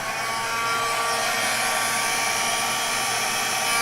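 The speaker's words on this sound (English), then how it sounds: "here goes my hair dryer, guys" Hair dryer blowing steadily on low over an acrylic paint pour, a constant close airy roar that holds without pause throughout.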